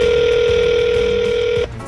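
A telephone line rings out on a call to a Wingstop restaurant, a loud steady electronic tone holding for over a second before cutting off abruptly into a quieter line hiss.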